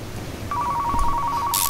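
A telephone in the Car Mechanic Simulator 2015 garage rings with a steady electronic tone that starts partway in and holds, loud and close, over a low background hum.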